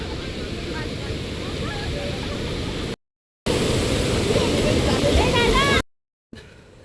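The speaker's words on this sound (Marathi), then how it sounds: "आणि पाणी इथं येऊन पाणी रिटर्न पलटी मारतोय. बघा फ्लो बघा, पाणी त्या साईडला चाललंय आणि तो पण स्पीडने आहे." Fast-flowing water surging and swirling back at Tata Power Dam makes a loud, steady rushing roar, close to the microphone and broken twice by brief silent gaps.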